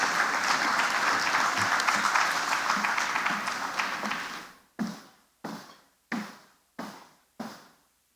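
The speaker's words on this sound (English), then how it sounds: "A resounding applause" Audience applause at a ceremony presenting financial support to widows of fallen heroes: dense, sustained clapping that fades, then five distinct single group claps in an even rhythm, with no talking.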